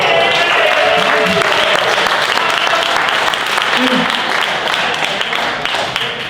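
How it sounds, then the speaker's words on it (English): Comedy club crowd applauding, a sustained wash of clapping that stays full and loud, with scattered voices and cheers mixed in and a slight easing near the end. "Give her a round of applause."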